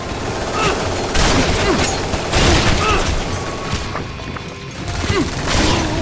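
Heavy gunfire in the video game Shadow Warrior 2, loud rapid volleys of shots and booming blasts in waves, with a voice briefly speaking over the chaos.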